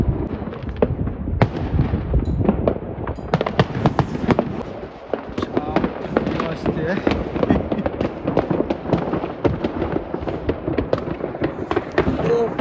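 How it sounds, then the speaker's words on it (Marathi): New Year's midnight fireworks in Sweden pop and crackle in rapid, overlapping bursts, some close and sharp, others farther off, forming a constant barrage with voices faintly beneath. "फटाके स्टार्ट झाले आहेत"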